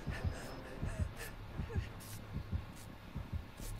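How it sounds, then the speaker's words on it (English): The killer's terror-radius heartbeat from the video game Dead by Daylight thumps as a steady, low double pulse in a fast rhythm, faint and muffled under quiet game ambience. "I hear heartbeats"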